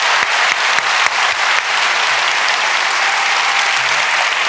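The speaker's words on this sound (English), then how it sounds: "let's give a warm round of applause for Secretary Buttigieg" An audience at a university deans forum gives loud applause for Secretary Pete Buttigieg, a thick, close roar of clapping with a few crisp individual claps early on, steady throughout with no voices.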